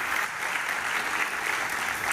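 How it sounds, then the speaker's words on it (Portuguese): Church congregation applauding in worship, a steady, even roar of many hands clapping together, moderately distant and unbroken throughout. "Aplaudindo o Senhor Jesus."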